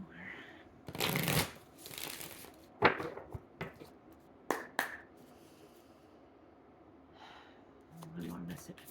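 Tarot cards are shuffled by hand in several separate bursts of quick riffling and slapping, close and crisp, with quieter pauses between and some breathy vocal sounds.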